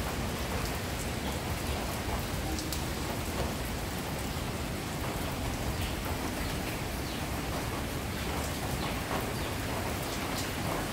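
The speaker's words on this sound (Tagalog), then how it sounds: "So, eto, bumabagyo. Bagyo na to eh." Heavy typhoon rain pours steadily at a tilapia fish farm, a dense continuous hiss of drops drumming on surfaces without letup.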